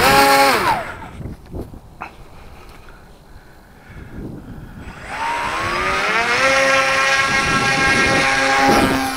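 An Air Hogs Titan RC plane, glued back together, whines loudly at launch. The close motor pitch drops and fades, then climbs again into a rising, buzzing whine with wind rush.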